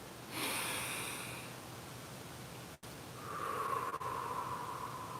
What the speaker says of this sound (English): Breathe real deep.